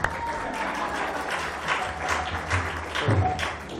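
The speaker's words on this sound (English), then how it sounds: "Let's give Janavi a round of applause." Applause from the audience at a Sunday lecture at ISKCON San Diego: dense, steady clapping throughout, with a few louder bursts near the end.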